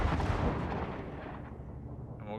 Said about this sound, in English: You can see those light strike cannons really getting to work.